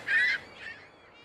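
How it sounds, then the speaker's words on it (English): Seagulls calling in the fishing video game Fishing: Barents Sea: one loud, harsh honking squawk, followed by a fainter second call, with no talk. "These noisy bloody seagulls."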